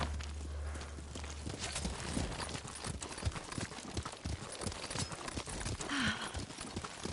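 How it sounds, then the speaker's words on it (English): Steady clip-clop of horse hooves walking at an even pace, close and continuous, with a soft whinny near the end, in the video game Ghost of Tsushima. "Horse!"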